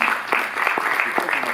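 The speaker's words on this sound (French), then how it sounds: "Vous applaudissez les producteurs par les acteurs, je vois" An audience at a Paris Cinémathèque film presentation applauding the producers, a short spell of scattered, moderately dense clapping with a few sharper individual claps.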